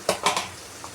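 Onions cooking in a pan, with three quick scraping spatula strokes clattering over a soft sizzle, followed by a faint final tap.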